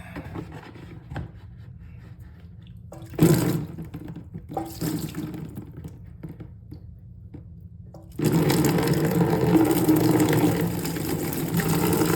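Water from a toilet fill valve pours into a catch bowl, a loud steady broadband rush that starts abruptly partway through and holds, after quieter intermittent trickles and clunks earlier.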